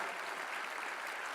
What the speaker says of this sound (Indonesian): Mari kita tepuk tangan untuk Christina dan semua anak Indonesia,